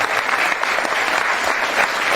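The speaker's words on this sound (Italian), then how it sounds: "Comunque gli facciamo un grosso applauso" An audience at an award ceremony for Italy's national aerobatic team applauds in a thick, continuous wash of clapping, loud and even from start to finish.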